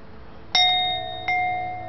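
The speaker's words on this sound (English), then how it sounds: "this small, like, acorn style, classic bell" Two strikes of a small hand-forged, acorn-style vintage cow bell with a chain-hooked clanger, each giving a bright metallic clang that rings on with a sustained shimmering tone, close and alone.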